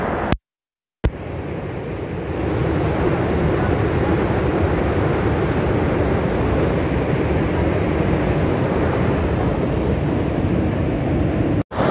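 Rushing water of the Mandakini river near Gaurikund roars loud and steady from close by, a continuous broadband torrent after a brief silent gap at the start, with no talking.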